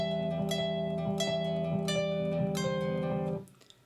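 Classical guitar plays Romanza, nylon strings picked in a continuous triplet arpeggio beneath a slow melody, close-miked and steady, then cut off sharply after a few seconds.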